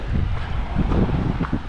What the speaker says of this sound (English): so it would be nice if the wind drops